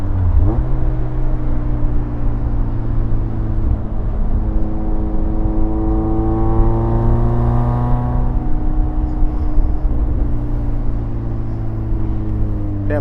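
A supercharged Mazda MX-5 sits stationary while its engine holds high revs, a steady loud drone with rising harmonic sweeps around the middle and a constant whir throughout.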